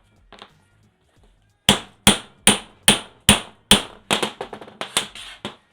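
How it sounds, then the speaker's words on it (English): Metal hammer blows drive a socket used as a punch against a driveshaft U-joint cap, six loud, evenly spaced strikes followed by a quicker run of lighter taps, close up with no talking. "you use this as a punch, and you punch that U-joint through."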